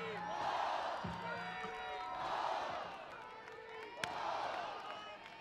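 Softball crowd at the NCAA Softball Championship cheering for the Ohio State pitcher during a 1-2 count, a swelling wash of cheers and shouts rising and falling in waves, with one sharp slap near the end.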